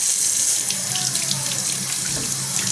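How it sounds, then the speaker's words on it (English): Running tap water splashes steadily over a masticating juicer auger clogged with celery pulp as it is rinsed in a sink, a continuous close hiss and patter with no talk. "I kind of give it a good rinse first."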